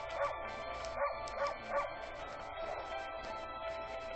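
The wolf character in Okami lets out a run of short, high yipping barks, several clustered early and then spaced apart, close and clear over a quiet game music bed.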